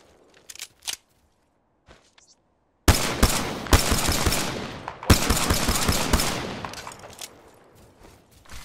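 Heavy gunfire in Apex Legends: after a few faint clicks, loud dense bursts of rapid shots erupt, pause briefly, then resume and trail off toward the end.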